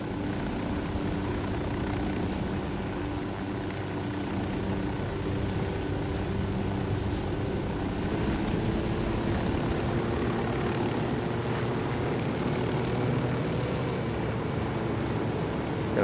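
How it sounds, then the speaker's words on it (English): A steady, close helicopter engine and rotor drone from Ghost Recon Wildlands runs unbroken at even loudness for the whole stretch, with no talking over it. "Chopper's down on the ground."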